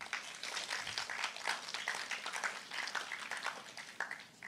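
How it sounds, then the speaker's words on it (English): Applause from a morning youth agricultural symposium audience, a dense, steady patter of many hands clapping at moderate volume, continuing throughout without a break. "I think you all deserve to give yourself a second round of applause."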